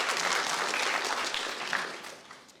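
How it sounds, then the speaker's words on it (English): Lecture audience applauds a climate journalism talk, a full burst of clapping that gradually fades away over a few seconds. "I think that deserves a clap."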